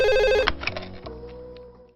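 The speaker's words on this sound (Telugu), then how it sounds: "ఓకే వారు ఆ ఫోన్ తీ." A telephone rings loudly in a home, its tonal bell repeating for about half a second before stopping abruptly, followed by faint room sounds.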